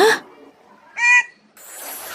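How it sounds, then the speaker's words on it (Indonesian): A bird call sound effect from a children's fairy tale, probably a bird of paradise: one short, bright tonal call in the middle, after a brief burst at the start, with a faint hiss trailing off at the end. "tapi malah suara burung yang terdengar"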